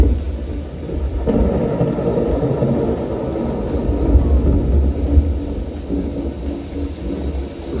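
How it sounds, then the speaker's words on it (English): Rolling thunder with steady rain, heard as part of a nighttime light and sound show at Amer Fort in Jaipur; a continuous low rumble and downpour, fairly loud and unbroken throughout, with no voices. "As the darkness of the night thickens, the earth begins to undulate with rain."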